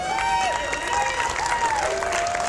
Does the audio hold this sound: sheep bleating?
no